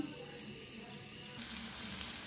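Potato pieces seasoned with turmeric and salt fry under a lid in a pan over high flame, making a soft, continuous hiss that swells slightly louder partway through, with no talking.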